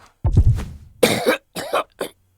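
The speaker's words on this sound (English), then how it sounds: "Coughing noises." A video game character in Octopath Traveler coughs in several harsh bursts, a long fit followed by shorter coughs with brief pauses, close and fairly loud with no speech.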